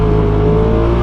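A 180 hp Polaris RZR Turbo R side-by-side engine revs hard and steadily while the machine drifts on dirt, a loud, close, continuous turbocharged drone with no talk.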